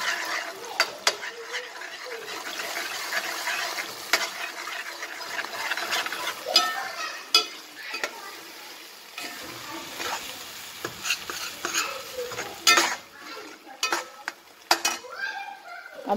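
Three beaten eggs sizzle as they fry in a pan for egg kothu parotta, with steady frying hiss and repeated sharp scrapes and clinks of a spatula stirring against the metal, close and moderately loud.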